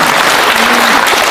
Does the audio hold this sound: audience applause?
yes